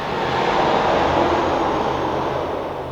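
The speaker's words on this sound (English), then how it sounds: "As you can hear the airplanes coming in to land." Airplanes fly low on approach to land at the airport beside Fort Mifflin in Philadelphia, a loud, sustained broadband engine roar that swells slightly and fades.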